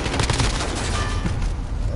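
Dense, continuous gunfire in the Modern Warfare video game, a steady roar of rapid shots and booms filling the whole two seconds with no pause.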